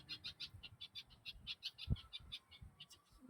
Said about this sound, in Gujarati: આ બુલબુલ અહીંયા બોલે.